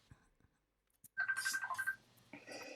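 A telephone or ringtone chimes in an office or studio setting, a steady electronic ring lasting under a second alongside a clearer burst of tones, fairly close, with brief voices around it.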